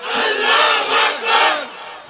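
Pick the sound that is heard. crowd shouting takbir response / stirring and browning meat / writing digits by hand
crowd shouting takbir response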